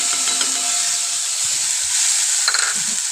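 Ginger spice paste dropped into hot oil in a frying pan, a loud steady sizzle with hiss and stirring scrapes, flaring briefly near the end.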